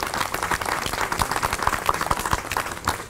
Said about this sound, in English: Let's give him a round of applause also.